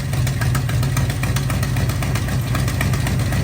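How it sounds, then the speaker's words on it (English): A V8-swapped Chevy S10 that sat for years idles with an exhaust leak, giving a steady, loud low rumble with an even ticking pulse throughout, alone and close. "Definitely an exhaust leak."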